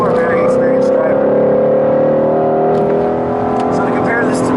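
A 2015 Shelby GT350R's engine drones loud and close from inside the cabin on a track ride, its pitch slowly easing, while someone talks over it.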